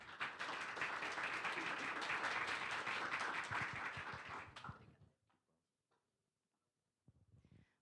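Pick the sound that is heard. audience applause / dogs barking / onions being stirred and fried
audience applause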